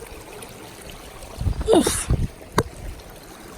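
Footsteps splash and shuffle across a small, shallow desert stream on a Pacific Crest Trail hike, a brief cluster of close, wet steps in the middle, and a person grunts once.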